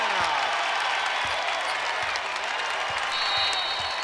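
Crowd in an indoor basketball arena at a Big Ten women's game, Purdue at Indiana, roaring and cheering loudly and continuously with a dense wash of noise and scattered claps.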